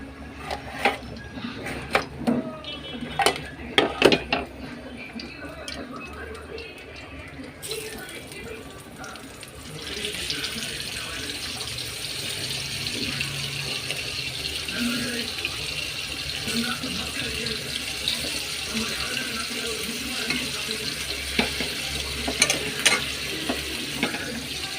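Fish marinated with chilli powder fries on a dosa pan. Scraping and clattering come first, then a steady sizzle runs through to the end, with occasional clinks of the pieces being placed or moved.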